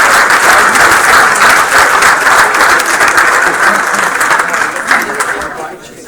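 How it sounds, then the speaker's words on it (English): A board meeting audience gives a dense, loud round of applause that holds steady for several seconds and then thins out toward the end. "One more round of applause."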